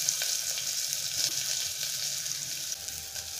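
Onions fry in a little oil in a pan, producing a steady, close hiss and crackle that holds evenly throughout with faint spatters.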